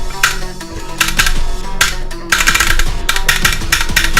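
Rapid bursts of clacky key presses on a K28 mechanical-keyboard game controller while playing the rhythm game Muse Dash, loud and close, clustered in quick rhythmic runs over tinkling game music.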